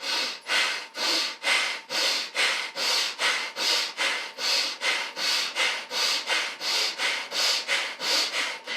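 Rhythmic breathing during yoga shoulder shrugs, with sharp, fast nasal breaths in and out repeating steadily about twice per second, close and clear, with no talking.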